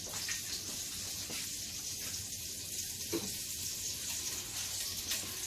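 Oxtails frying in a pan with butter and a little olive oil, giving a steady, close hiss and sizzle that runs unbroken with no talking.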